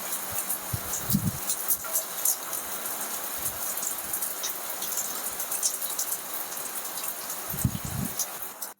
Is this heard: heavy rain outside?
yes